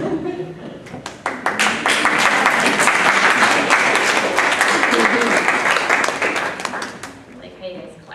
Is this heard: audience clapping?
yes